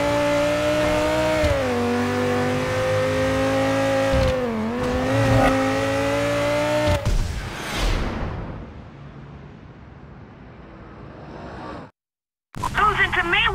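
Cars revving and accelerating toward a starting line in Midnight Club LA Remix, a loud sustained engine whine rising in pitch, then fading with tire noise, followed by a brief cut and renewed engine sound.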